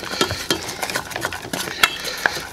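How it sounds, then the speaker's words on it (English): Butter sauce being stirred into mushrooms in a pan, with repeated scraping and clinking of a utensil against the pan in an irregular rhythm, close and moderately loud with no talking. "give that a good stir, get it good mixed in there"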